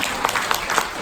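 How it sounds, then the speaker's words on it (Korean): A seated audience claps briefly for a woman just praised by the presenter, a short, even burst of applause without speech. "박수 한번 주십시오, 이분."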